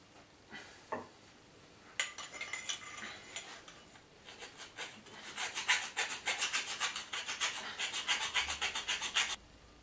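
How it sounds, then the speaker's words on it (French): A file rasps back and forth over a small punch mark on a pipe while building a wastewater heat-recovery exchanger; after a couple of scattered scrapes, quick rhythmic strokes grow close and steady for several seconds, with no talking. "Et ce petit poinçon je vais le limer"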